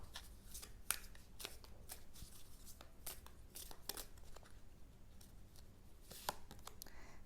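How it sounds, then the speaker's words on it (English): Oracle cards are shuffled in a quiet room, with a series of soft, papery riffles and flicks coming in irregular bursts, close to the microphone and fairly faint. "Let's get you some oracle cards, Libra, by Colette Baron Reed."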